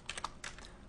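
Several quick, faint keystrokes tap out on a computer keyboard at a desk, a short irregular run of clicks spread across about a second.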